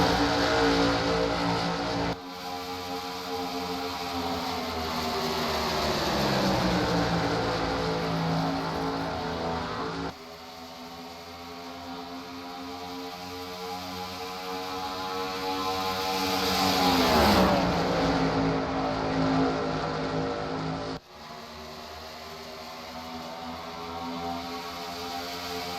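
NASCAR stock cars race at Chicagoland Speedway with a continuous loud engine roar. The pitch sweeps up and down as cars pass, and the sound cuts abruptly between shots.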